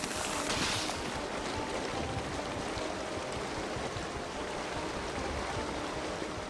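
Steady rushing water from a waterfall in the video game Borderlands 3, a constant broadband roar that stays even and unbroken throughout, with no talking over it.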